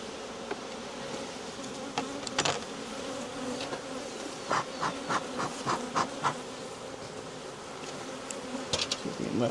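Honeybees buzz steadily in an opened hive during a frame-by-frame inspection with a smoker, a dense continuous hum with scattered sharper clicks and bumps from handling close by.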